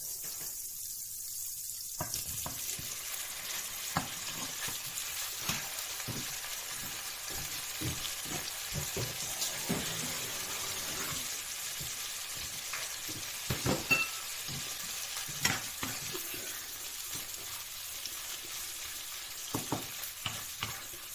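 Tiger prawns stir-fried with garlic in a hot pan, a steady sizzle broken by repeated scraping and clattering stirs, with a quieter pause near the start and louder knocks later on.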